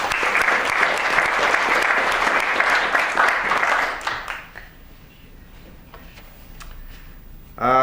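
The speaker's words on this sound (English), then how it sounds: "So a round of applause for both of them." Lecture-hall audience applauds steadily for about four seconds, the clapping then thins out to a few scattered claps and quiet room noise before a voice starts at the end.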